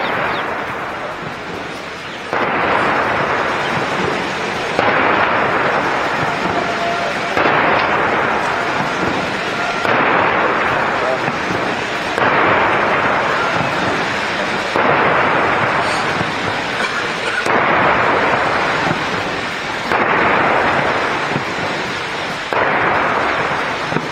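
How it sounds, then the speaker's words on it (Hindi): Ceremonial 21-gun artillery salute welcoming Putin at Rashtrapati Bhavan in India, heard as a steady series of loud, rumbling blasts roughly every two to three seconds, with a broad crowd-like wash between booms. "21 तोपों की सलामी"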